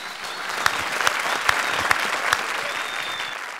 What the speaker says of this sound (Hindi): तो एक बार जोरदार तालियां राजीव के लिए।